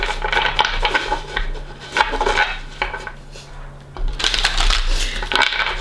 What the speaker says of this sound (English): I'll give them another shuffle here.